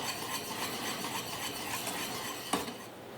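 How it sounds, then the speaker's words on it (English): Continuous brisk scraping and swishing of a whisk through pastry cream in a pan over medium-high heat, fairly faint and close, with one sharper clink of metal on the pan near the end. "I'm going to whisk this constantly over medium-high heat until it's slightly thickened"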